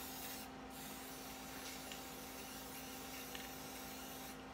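Self-etching primer sprays from an aerosol can onto the frame of a 2002 Lexus SC 430, a faint, steady hiss running throughout with a constant low hum underneath.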